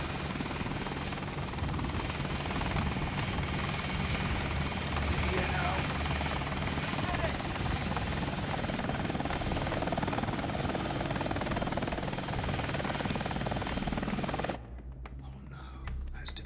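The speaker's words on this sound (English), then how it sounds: "Is that a helicopter?" Helicopter in a horror film scene, a loud continuous rotor drone with a dense beating rumble that fills the whole stretch, then cuts off abruptly near the end, with hushed voices under it.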